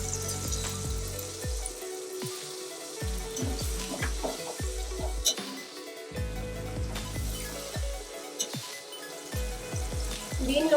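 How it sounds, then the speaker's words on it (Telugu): Tamarind juice goes into a hot pan and is stirred, giving loud bursts of sizzling with repeated scraping and clinking stir strokes close by. "ఇప్పుడు దీనిలో చింతపండు రసం వేసుకొని కలుపుకుంటున్నాను."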